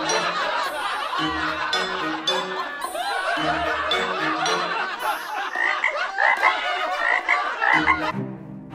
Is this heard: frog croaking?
yes